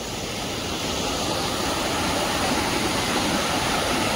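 Steady rushing water flowing loudly and continuously, a broad wash of noise from a river running close by under a bridge, with no voices.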